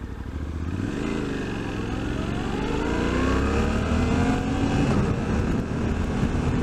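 A 2023 Suzuki V-Strom 800 DE motorcycle in its lowest-power riding mode pulls away from traffic lights, the engine note rising steadily through the revs over several seconds, loud and close with wind noise.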